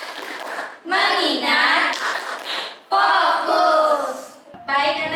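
A classroom of children claps a rhythmic routine in unison, sharp bursts of hand claps in several phrases alternating with their group chant, with brief pauses between the clapping sections.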